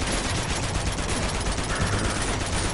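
Gunfire in the action video game Uncharted 2: Among Thieves, with dense, continuous bursts of shots blending into a loud, unbroken barrage throughout.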